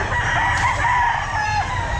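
A rooster crows once at a busy outdoor pet market, a loud, close call held for about two seconds over a steady background hum.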